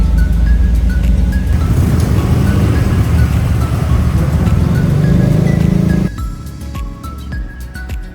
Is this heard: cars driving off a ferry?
yes